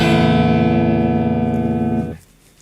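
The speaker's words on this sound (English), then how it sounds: "I've purposely made my guitar completely out of tune and it sounds like this." Guitar left completely out of tune, a strummed clash of sour strings ringing loud and sustained for about two seconds, then fading quickly into quiet.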